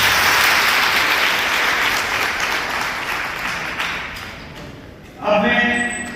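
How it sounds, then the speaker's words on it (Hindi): Hall audience claps to welcome a guest at a college orientation workshop, a loud, sustained round of applause that fades out before a voice starts speaking over the room. "ताली बजाएं।"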